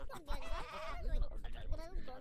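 Sheep in the game Craft the World bleat in wavering, nasal cries, fairly loud and close, mixed with a speaking voice and in-game noise.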